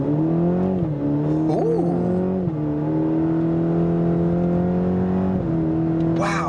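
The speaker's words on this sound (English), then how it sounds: "So let's go ahead and see what it'll do with some acceleration." A 2020 Cadillac CT4-V with a 10-speed automatic accelerates hard from inside the cabin, its engine drone climbing steadily with quick upshifts that briefly drop the pitch, loud and continuous, with a short exclaimed voice.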